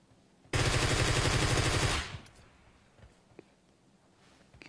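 Rapid automatic gunfire in the battle royale video game PUBG Mobile, one loud sustained burst of about a second and a half, followed by faint distant shots and quiet game ambience.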